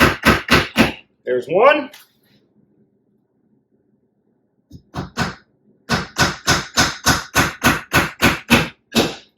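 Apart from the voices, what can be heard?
hammering nails into a wooden frame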